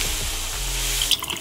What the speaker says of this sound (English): All right, so here the water hose spray